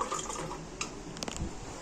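Water running from a tap into a glass, a continuous hissing splash with a few brief drips and knocks near the end, short and moderately faint, no voices.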